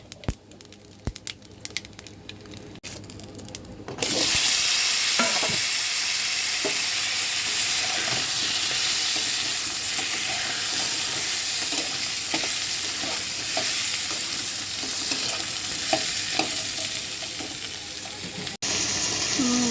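Dried red chili and black cumin hit hot oil in a pan of already-fried fish and start a loud, steady sizzle. Quiet handling clicks come first, and the frying keeps going strong with occasional stirring scrapes.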